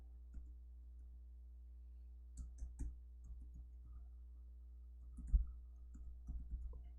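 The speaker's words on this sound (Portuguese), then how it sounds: "aqui vou digitar a minha senha" A password is typed on a computer keyboard during an Ubuntu 12.04 install in VirtualBox, heard as a few quiet, sparse key clicks in small clusters over a low steady hum.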